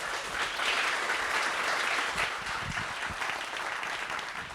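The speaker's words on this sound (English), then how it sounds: "give a round of applause to Sjors" A room full of people at a community talk on Dutch transportation planning applauds an urban planner coming to speak, steady sustained clapping heard from a moderate distance, with no speech over it.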